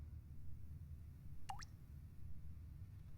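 A single water drip lands with a short plop midway through a faint, quiet room hum, suggesting leaking pipes.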